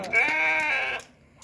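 A single sheep gives one clear, fairly close bleat lasting about a second at a livestock sale, with no voices over it.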